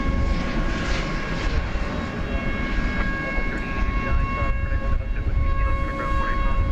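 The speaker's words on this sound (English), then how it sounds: "Turkish Flight 192 off to Istanbul. That is a Dreamliner" A Turkish Airlines Boeing 787-9 Dreamliner passes at night at DFW Airport, a broad steady engine roar with a faint whine, continuous and fairly distant, without clear rise or fall.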